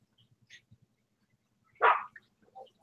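A single dog gives one short, sharp bark at moderate distance, followed by a softer second yelp, over a quiet room with faint low tapping.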